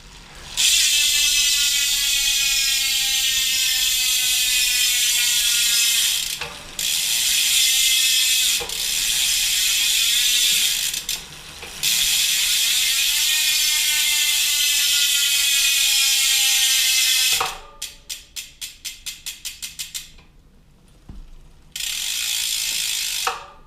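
Loud freehub ratchet on a bicycle wheel with CX46 rims, a fast buzzing click that runs almost steadily, breaks off briefly a few times, then slows into a string of separate clicks before a final burst.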